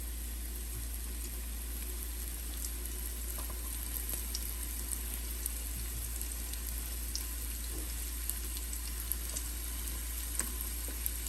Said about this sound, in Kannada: ಈಗ ಇದನ್ನು ಶಾಲೋ ಫ್ರೈ ಮಾಡ್ಕೊಳ್ಳೋಣ